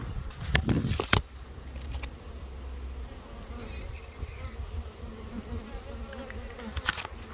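Honeybee swarm buzzing steadily nearby, a soft continuous hum with brief louder bursts and thumps of handling at the start and near the end.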